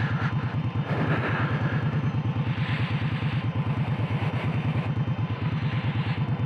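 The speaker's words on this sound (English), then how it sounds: "Notice the bike takes off, feet are on there, I'm not looking down at all." A motorcycle pulls away from a stop, its engine a steady rapid loping beat close by, loud and continuous throughout with no talk.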